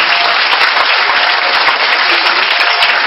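A church congregation applauds in praise, a dense, steady wash of clapping from many hands that stays loud and unbroken throughout, with no voices standing out.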